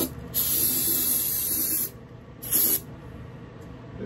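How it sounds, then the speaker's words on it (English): Brake cleaner hisses from an aerosol can onto a Detroit Diesel marine exhaust manifold riser in two loud bursts, a long spray of over a second followed by a short one. "I'll use a little brake clean."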